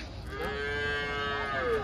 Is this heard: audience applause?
no